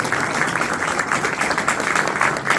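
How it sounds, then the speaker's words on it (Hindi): A church congregation clapping their hands, a dense, continuous patter of many claps filling a hall at moderate loudness. "ताली बजा दो"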